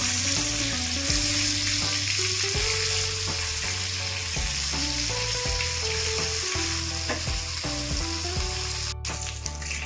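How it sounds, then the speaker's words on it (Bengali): Vigorous sizzle and crackle of eggplant slices frying in mustard oil, steady and close, with soft background music underneath. "মাছ ভাজা তেলেই বেগুনগুলো ভেজে নিচ্ছি"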